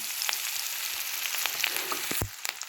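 A garlic and coconut masala fries in hot oil in a home kitchen pan while cooking an eggplant curry, giving a close, steady sizzle with small pops and a brief stir clatter near the end.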